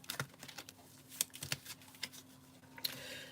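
Tarot cards are shuffled by hand in quick, irregular bursts of soft clicks and flicks, close and quiet, with brief pauses between riffles and no speech.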